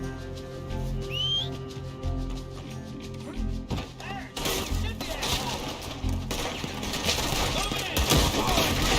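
Gunfire in Red Dead Redemption 2, a dense, loud, crashing barrage of shots and impacts building over the stretch, with a whistle-like tone early on and some voice mixed in.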